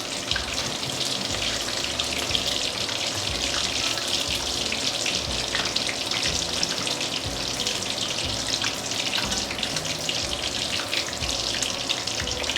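Prawn fritters fry in hot oil with a dense, steady crackling sizzle that stays loud and close throughout, with no voices.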